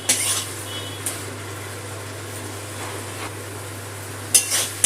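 Mustard and poppy seed masala sautés in a little oil with a quiet, even sizzle over a low hum, punctuated by a few scraping and clinking stirs of a spoon against the pan.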